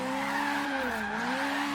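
A lowered, stanced Toyota AE86 drifts in Forza Horizon 3 with a steady tire squeal over a constant engine drone, the tone dipping slightly midway and holding loud and close throughout.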